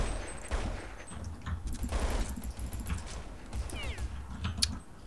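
Gunfire in the video game Counter-Strike 1.6, a scatter of sharp rapid shots and bursts at moderate distance, mixed with clicking keys and faint game noises, no talk.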